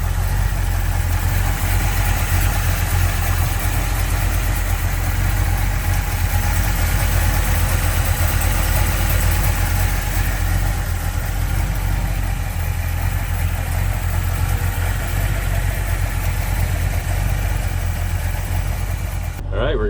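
A 1952 Ford F-1 resto-mod pickup with a 350 V8 idles steadily, a loud, close, continuous low rumble that holds even for the full stretch before cutting off at the end.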